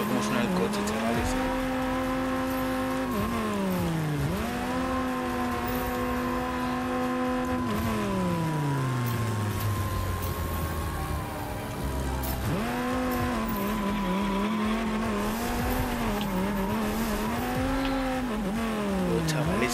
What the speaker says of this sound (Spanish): Pero como suena el coche, chavales.